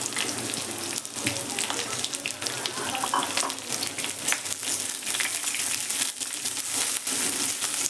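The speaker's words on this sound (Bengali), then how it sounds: "রিংগুলো কেটে কিন্তু আমি আবার সেপারেট করে নিয়েছি, তেলের ওপরে দিয়ে দিলাম" Onion rings, cut and separated, dropped into hot oil for a South Indian-style chole chaat, giving a loud, steady broadband sizzle with scattered crackles and brief clatters throughout.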